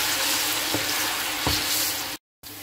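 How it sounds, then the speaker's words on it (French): Plantains and onion frying in hot oil make a steady, close sizzle with a few soft stirring knocks, running on its own until a brief cut to silence near the end. "on fait chauffer de l'huile pour les bananes plantains"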